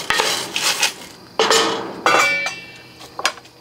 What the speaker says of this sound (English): Just give them a stir.